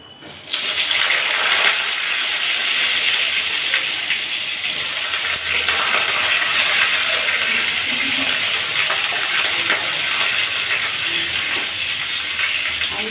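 Potatoes drop into a pan of hot oil tempered with cinnamon and a dried red chilli, setting off a loud, continuous sizzling hiss that begins abruptly and holds steady for over twelve seconds.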